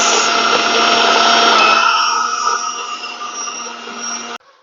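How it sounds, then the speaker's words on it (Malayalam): An electric mixer grinder blends mango juice sweetened with sugar, giving a loud, steady motor whine with a high hum. It runs close and alone, then eases down in pitch and strength before cutting off abruptly near the end. "അപ്പൊ ഞാൻ മിക്സി ഓണാക്കാൻ പോവാണ്."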